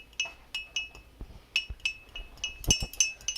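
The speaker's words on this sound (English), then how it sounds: "if you could give it a little whisk before we add it in" Fork clinking against a glass bowl while whisking an egg in a kitchen, a series of bright, irregular taps and chinks at close range, with no talking.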